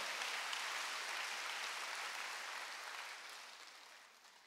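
A church congregation at a Wednesday worship service applauds in a steady, wash-like roar of many hands that slowly fades toward the end.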